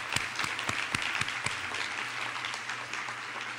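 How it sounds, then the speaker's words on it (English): A large audience at a church gathering applauds in a dense, steady wash of clapping, with a few sharp nearby claps standing out at the start before the sound settles into an even roar. "let's give them a round of applause"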